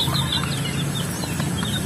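Farm chickens cluck and chirp softly in the background at afternoon feeding time, with a steady low hum of outdoor ambience running throughout.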